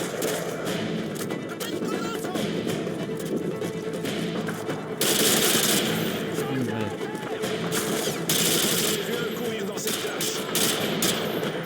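RPD light machine gun fire in the 2009 Modern Warfare 2 campaign, with dense, sustained automatic bursts mixed with battle noise and someone talking over it throughout.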